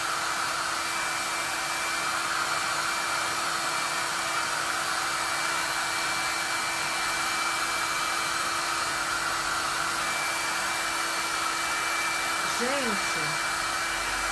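A hair dryer blows continuously to dry craft paint on a handmade gift, a loud, steady close whoosh throughout, with a voice briefly audible near the end.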